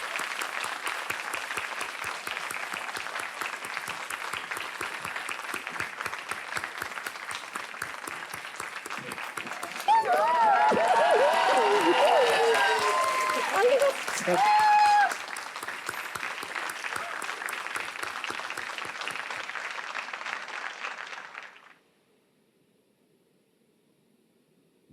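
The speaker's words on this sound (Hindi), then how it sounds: "तालियां बज जाए उनके लिए।" Studio audience on the Hindi quiz show Kaun Banega Crorepati gives sustained, even applause for about twenty seconds, with a brief louder swell midway. The applause then cuts off to near silence.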